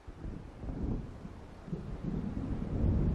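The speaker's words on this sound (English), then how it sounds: "It seems there's a storm coming." Rumbling thunder rolls low and continuous in Alan Wake Remastered as a storm approaches over open water, swelling in waves and growing louder toward the end, with wind and rain texture underneath.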